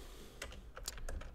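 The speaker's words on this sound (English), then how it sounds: "Typing." Soft computer keyboard typing, a handful of quick, light key clicks in an irregular rhythm, faint and close with a low background hum.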